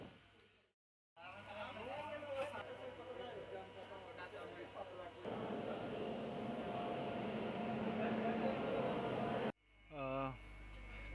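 Saranda MEMU passenger train rolling along with a steady rumbling roar and rattling carriage noise from inside, rising louder midway, with a voice talking briefly near the end.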